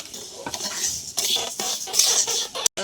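Metal utensil scraping and clattering in a wok as black mung dal is dry-roasted, with a soft sizzle beneath, steady stirring strokes close up, no talking.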